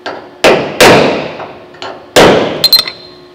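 Hammer strikes on the rusted roof gutter of a 1970 Holden HG ute during rust repair: five sharp metallic blows at uneven intervals, close and loud, with a quick ringing double tap near the end.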